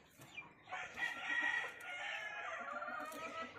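Chickens crowing and clucking in a farmyard at feeding time, a rooster's crow rising over steady soft clucks from several birds, fairly faint and close, with no one talking.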